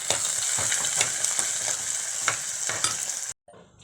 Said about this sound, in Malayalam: ഇഞ്ചി വെളുത്തുള്ളി അരിഞ്ഞ് വെച്ചേക്കുന്ന എല്ലാം കൂടെ ഇട്ട് നല്ലതായിട്ട് വഴറ്റുക